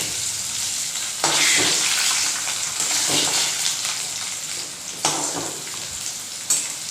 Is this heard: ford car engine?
no